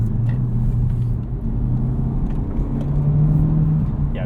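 A 2023 Honda Civic Type R driven hard on a greasy road, heard from inside as a loud, steady engine drone and road rumble with a sustained tone that shifts pitch partway through, close and constant.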